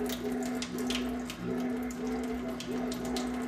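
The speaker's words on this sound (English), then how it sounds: "That's the gas filling up the space." Pressurized gas rushing into a home on-tap carbonator tank and forcing the water out, a steady close hiss with a constant tonal hum and a few faint clicks, with no talk.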